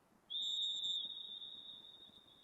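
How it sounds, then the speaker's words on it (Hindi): A referee's whistle blown at the end of a wrestling bout gives one long, loud, steady shrill tone that starts sharply and holds for about two seconds over quiet background noise. "समय समाप्त होने पे रेफरी द्वारा सीटी बजाई गई है।"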